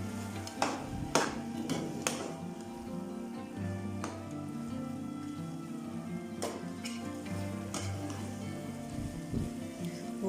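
Lahori keema with garam masala being stirred in a pan, with a steady sizzle and frying hiss and occasional sharp scrapes and clinks of the spoon against metal.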